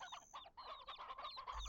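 Chicken in the game Black Desert Online clucking in quick rapid bursts, faint and close, with no voices.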